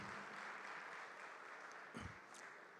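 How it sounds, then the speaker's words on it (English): An audience at an energy technology conference hall applauds exhibitors, a dense, even spread of clapping at a distance, quiet but continuous throughout with a faint thump near the end. "Please, big round of applause for our exhibitors."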